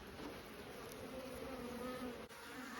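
Honey bees hum around an open hive during a swarm inspection, a continuous close buzzing drone with individual bees passing near, fairly quiet and without talk.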